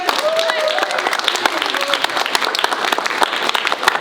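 A middle school assembly crowd of students claps for the cameraman: dense, loud applause with sharp individual claps standing out, a few voices calling over it.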